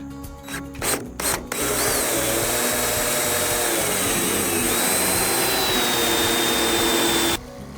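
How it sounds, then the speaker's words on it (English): A few sharp clicks and rattles, then a power drill whirs loudly and steadily for about six seconds drilling a rivet hole in an overland camper roof, before cutting off abruptly. "Let me drill a hole and put a rivet in here"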